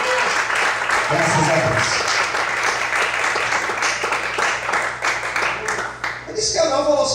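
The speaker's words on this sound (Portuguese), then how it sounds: "Pode aplaudir ao Senhor de nós" A church congregation applauds the Lord during a sermon, a burst of clapping that swells and fades under a voice speaking over it.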